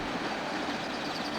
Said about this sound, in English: (47018) arrived with the train from Dundee.